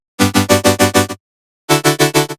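Future bass supersaw patch built in the Vital synth, its volume chopped by a 1/16 LFO into rapid evenly spaced pulses, a run of six then a pause and another run of five, loud and alone.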